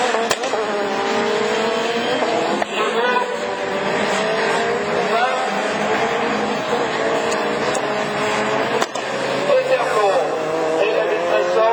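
A Division 4 rallycross race car drives down the descent at the Lavaré circuit, its engine loud and straining with shifting harmonic whine and brief tire noise. An announcer talks over the racket throughout.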